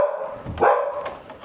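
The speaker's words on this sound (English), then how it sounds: "Hearing some dogs." Dogs bark at a rural barn home, a couple of sharp, close barks breaking over a short stretch of background noise, with no talk.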